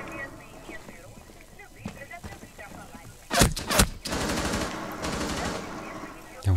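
Gunfire in the game Rainbow Six Siege: a few sharp shots, then a loud close burst of rapid automatic fire lasting a couple of seconds, with talk in the background.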